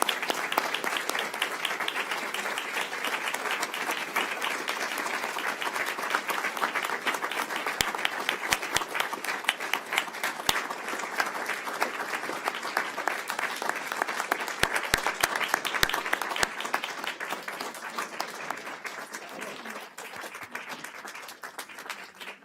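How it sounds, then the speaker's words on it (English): A board-meeting audience gives sustained applause for awardees, a dense, continuous wash of many hands clapping in a room, with a few sharper nearby claps standing out before it thins toward the end. "if you will give them thunderous applause"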